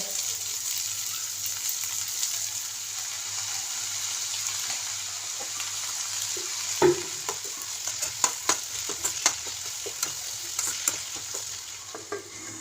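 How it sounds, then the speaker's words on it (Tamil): Sliced onion and banana flower stem with salt and turmeric frying in a pan, a steady close sizzle, with a spoon scraping and stirring in a run of sharper knocks and scrapes during the second half. "அதையும் போட்டு அது கூடவே கொஞ்சமாக உப்பு மஞ்சள் தூள் போட்டு கிண்டி கொஞ்சம் நேரம் மூடி வச்சிடலாம்"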